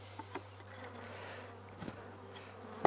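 A low, steady hum of many honeybees buzzing inside a failing hive, with a few soft knocks and clicks, no talking.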